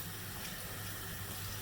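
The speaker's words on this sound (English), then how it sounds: "I'm going to really take my time and rinse it out with that cold water" Cold tap water runs steadily from a faucet while conditioner is rinsed out of a human hair wig, a constant close hiss with no talking.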